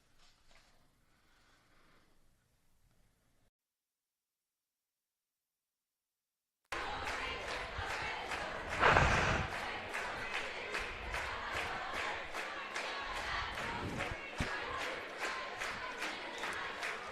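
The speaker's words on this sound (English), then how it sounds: "Great performance by the Linton Minor cheer team." A high school cheer team performs in a basketball gym: after near silence, loud crowd noise and cheering erupt and hold steady, punctuated by rhythmic stomps or claps and a brief shouted burst.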